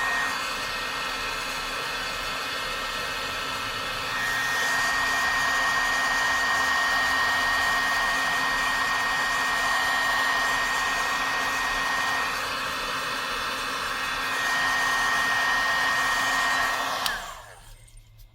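Heat tool blowing a steady, loud airflow roar over embossing powder on a die-cut flower, running continuously for most of the stretch with slight shifts in intensity before cutting off abruptly near the end.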